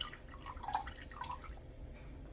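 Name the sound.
distilled water being poured into a measuring cup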